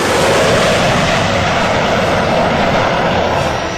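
Sukhoi and Mirage fighter jets pass low over a highway used as an airstrip in Uttar Pradesh, a loud, steady broadband engine roar holding for several seconds with no voices.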